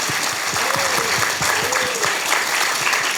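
Dense applause from a lecture audience of university students in Gwangju, a steady wash of many hands clapping close and loud, continuing evenly throughout with no speech.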